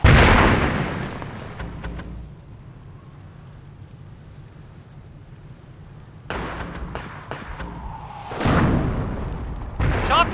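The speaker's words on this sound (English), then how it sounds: "Mortar reporting! Crew, Achtung! Barrage on target!" Mortar shells land in a Company of Heroes battle, each a deep booming impact. A heavy blast opens, others follow after a quiet gap, and several more come near the end, with battlefield voices mixed in.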